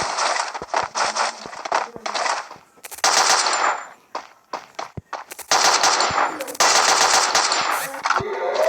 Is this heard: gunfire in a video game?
yes